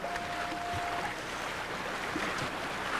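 Ocean wave water rushes and washes steadily around a sea kayak along the Maine coast, a continuous moderate surge with light wind and faint splashes, no talking.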